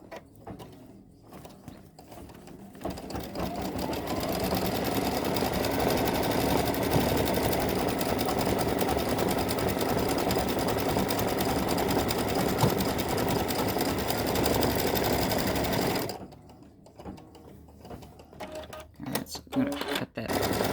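An embroidery machine stitches a 4x4 filled Easter gnome design as a test, holding a steady, dense mechanical whir with rapid needle clatter for about twelve seconds, framed by quieter handling noises before and after.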